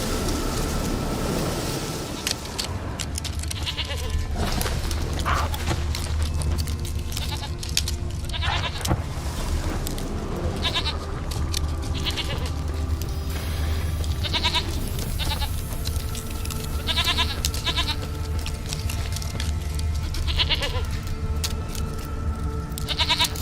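Goat bleating in the video game The Witcher 3: Wild Hunt, several short bleats rising over a constant windy outdoor ambience.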